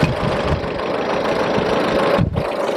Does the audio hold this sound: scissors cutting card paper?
no